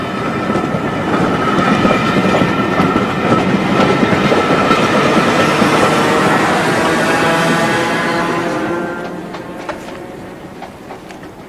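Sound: train passing a signal

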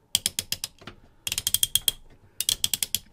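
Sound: ratchet joint on Optimus Prime action figure clicking

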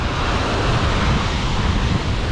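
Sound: ocean waves breaking on the shore

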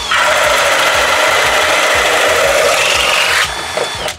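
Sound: Milwaukee high-torque hammer drill running under load

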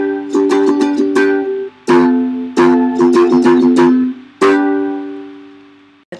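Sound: ukulele strumming pre-chorus chords

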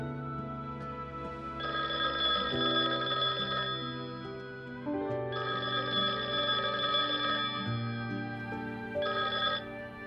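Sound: telephone ringing unanswered at home

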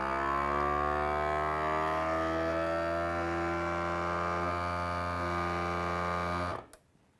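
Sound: vacuum sealer running

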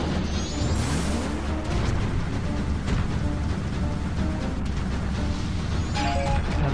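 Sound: bombs exploding in video game Majora's Mask, Goht boss fight

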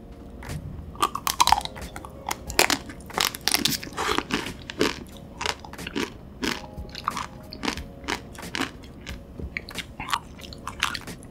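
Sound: eating chocolate dessert ice cream and macarons

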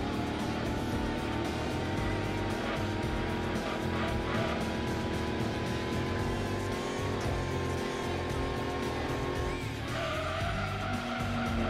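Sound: muscle car engine racing in video game Gran Turismo 2

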